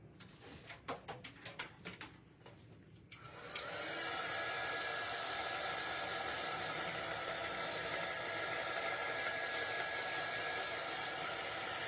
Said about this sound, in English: All right, let me dry this.